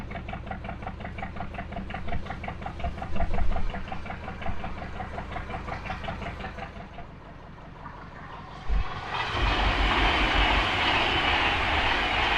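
Train passing beside a canal at Middlewich, heard from a narrowboat: a steady rumbling rattle with rhythmic wheel clatter, then a louder, hissing rush as more carriages go by close at hand.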